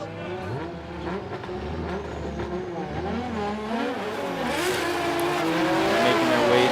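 Drift car at Suzuka Twin Circuit, Mie, in a Formula Drift Japan battle, engine revving with wavering pitch and tire squeal swelling louder, a crowd and commentary underneath.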